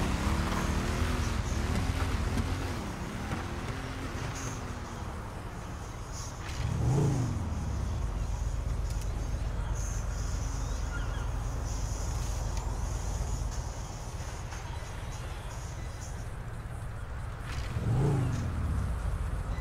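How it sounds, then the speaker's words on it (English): A motorbike engine runs steadily in a video game at a beach setting, holding a constant drone with two brief revving swells, with no talk over it. "Now my bike's auto starting."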